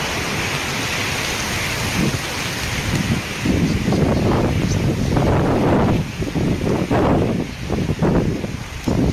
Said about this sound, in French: De puissants vents soufflent sans arrêt sur la région